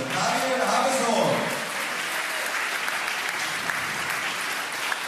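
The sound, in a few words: applause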